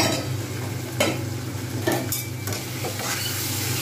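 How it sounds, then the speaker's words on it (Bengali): Radish, potato and spices frying in a pan, a steady close sizzle with a few louder stirring scrapes of a spatula against the pan, no voices. "দেখা যাচ্ছে সুন্দরভাবে ভাজা হয়ে গেছে, মূলো, আলু এবং মশলাগুলোর সাথে সাথে কষা হয়ে গেছে।"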